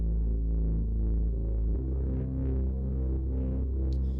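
A steady low tone buzzes with harsh hard-clipping saturation distortion, nearly square-wave, full of gritty harmonics, its pitch dropping once partway through.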